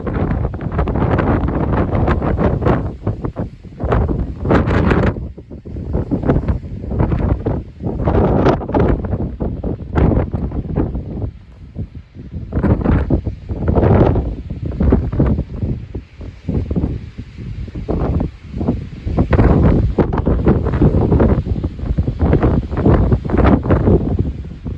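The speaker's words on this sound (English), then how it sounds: "And as you can tell, it's pretty windy right now." Strong gusts hit the Crest Trail in the Sandia Mountains on a backpacking trip. Loud bursts of wind roar repeatedly against the microphone, rising and falling in waves with short lulls in between.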